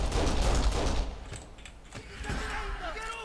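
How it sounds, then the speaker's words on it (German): Machine gun fire in the Kane & Lynch game comes as a rapid, loud burst of rattling shots that fades after a second, leaving softer mechanical clanks. "Da ist wieder dein MG."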